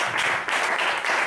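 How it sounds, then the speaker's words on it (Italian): Theatre audience applauding in a small Milan venue, a steady wash of many hands clapping at moderate level throughout, with no talk over it. "Fatemi un applauso per l'uscita della Marchesa."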